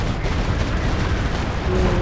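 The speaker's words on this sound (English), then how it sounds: "Oh man, that was like an action movie. Explosions left and right." A dense, continuous roar of explosions and gunfire from the Company of Heroes 2 strategy game in a 2v2 match, with booms and rattling shots blending into a loud, unbroken wall of battle noise.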